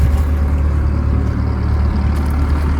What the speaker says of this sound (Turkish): Ya traktör ya araba sesi geliyor çünkü zaten.